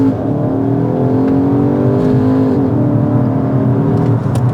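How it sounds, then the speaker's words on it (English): A 2024 Skoda Octavia RS front-wheel-drive hot hatch accelerates hard from a launch-control start, its engine note climbing steadily through the revs, dipping at a gear change and then rising again, loud and sustained from inside the cabin. "it's time to launch the bloody Skoda Octavia RS ESC Sport"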